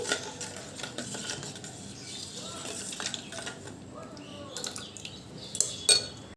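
Bael fruit sherbet with sugar, salt and spice being whisked by hand in a bowl: faint, irregular metallic clinks and light liquid swishing, growing sharper near the end.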